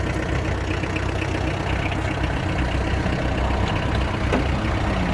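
A Kubota X-20 20 hp compact tractor engine revs steadily and loudly throughout, a low mechanical drone with no voices.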